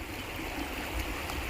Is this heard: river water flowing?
yes